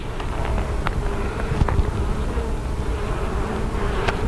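Honeybees drone steadily in a constant, dense buzz from an open beehive during a varroa mite check, with individual bees passing close by now and then.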